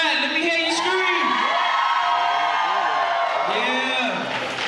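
An elementary school crowd of children at a district convocation screams, cheers and whoops loudly in a sustained wave, with an announcer's amplified voice over it.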